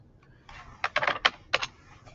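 Quick taps on a computer keyboard as a command is typed, a short cluster of crisp key clicks that is close and clear against a quiet room.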